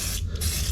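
A short hiss of WD-40 sprayed onto the carburetor intake boots of a 1998 Kawasaki ZX-6R, one steady close burst lasting under a second.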